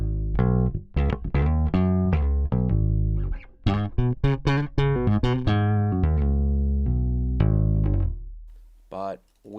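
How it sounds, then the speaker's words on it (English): Fender Precision bass played direct with no amp, a run of plucked and picked notes, some in quick bursts, close and loud with no other sound, ending on a sustained note that fades out. "this is my DI sound with my Fender Precision bass"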